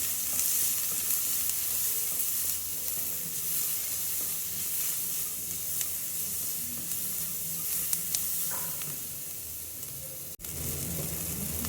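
Ivy gourd curry with a pinch of turmeric powder gets stirred in a hot pan, a steady close sizzle running throughout with occasional soft scrapes of the spoon.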